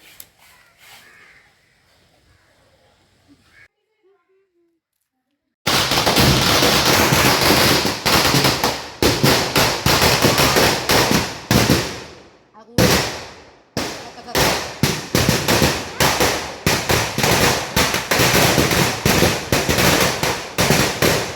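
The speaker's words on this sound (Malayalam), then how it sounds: "അവിടുന്ന് പടക്കം പൊട്ടുന്നതൊക്കെയാണ് എടുത്തത്" Firecrackers bursting at a church festival near a small roadside chapel. A long, loud, dense crackling barrage sets off suddenly after a quiet start, pauses briefly, then rattles on in rapid irregular pops.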